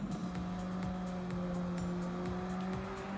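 Mitsubishi Lancer racing in Gran Turismo 7, a steady loud engine drone holding one high pitch throughout, with faint tire noise over a long sweeping bend.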